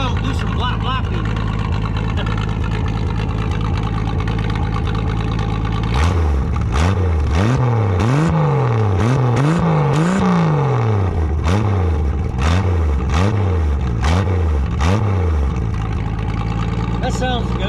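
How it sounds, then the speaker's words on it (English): A loud snowcat engine, running slightly rich, revs repeatedly in sharp throttle blips, pitch rising and falling several times over a steady idle, close by. "Hit the throttle, do some blapping."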